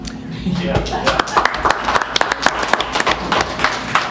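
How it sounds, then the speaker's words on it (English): Audience clapping at a district board of directors meeting, a scattered round of applause from a seated group lasting several seconds with some voices mixed in. "Should we give him a round of applause?"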